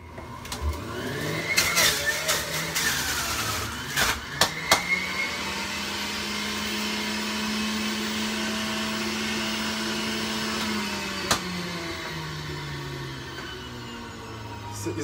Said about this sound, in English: I'm gonna run it through the juicer